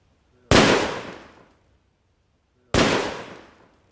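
A firework blasts off beneath a chicken leg, two loud sharp bangs about two seconds apart, each trailing off in a brief rumbling decay, close and with no talking.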